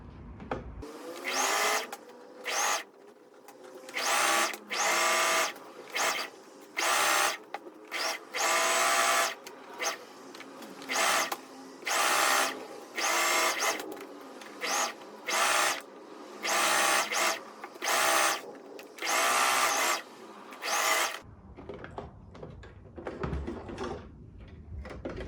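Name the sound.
sewing machine sewing a regular straight stitch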